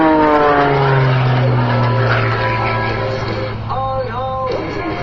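Aerobatic propeller airplane flown by Matt Chapman at an airshow, its engine droning loudly and steadily, with pitch sliding down and then swelling up again through a maneuver.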